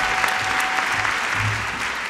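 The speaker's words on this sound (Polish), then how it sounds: "Także ogromne gratulacje i brawa dla Was." An audience applauds award winners at an awards ceremony, a steady, full burst of clapping heard alone without talk.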